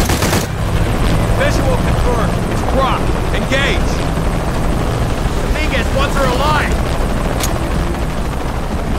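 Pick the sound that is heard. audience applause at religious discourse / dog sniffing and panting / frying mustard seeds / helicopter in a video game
helicopter in a video game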